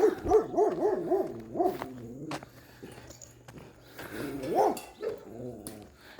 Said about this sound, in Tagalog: may isang aso din doon maingay